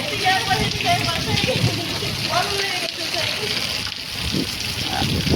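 Rain falls outdoors in a steady, close wash of patter and splashing that continues under ongoing talk.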